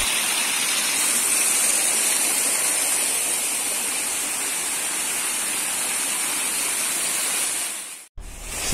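Seasonal mountain waterfall at Curug Kalba pouring steadily into a pool below, a loud, close, unbroken hiss and rush that cuts off abruptly near the end.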